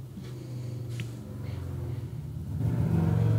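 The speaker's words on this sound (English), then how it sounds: "That was a motorcycle." A motorcycle engine rumbles past outdoors in cold early-morning conditions, a mid-pitched drone that swells and grows louder toward the end as it approaches, heard alone without talk.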